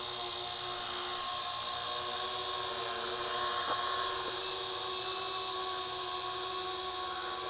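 A WLToys Q303-A gimbal drone flies and hovers with a thin, high-pitched propeller whine that rises and dips slightly, steady and moderately faint, with no talk.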